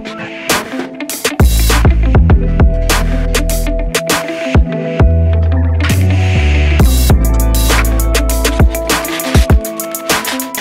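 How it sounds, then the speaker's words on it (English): The cover is bolted onto a Chrysler 9 1/4 rear end during a Plymouth Cuda gear install. Loud, close bursts of a whirring power tool alternate with sharp ratcheting clicks and metallic knocks in an uneven rhythm. "So let's go ahead, we'll bolt up the cover."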